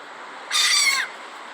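A single close seagull call rings out for about half a second on the ramp of a shopping center, loud and harsh against a quiet background.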